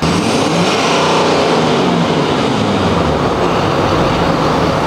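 A car engine revs hard and loud at close range, a dense continuous roar that holds high and steady with no pauses, no voices.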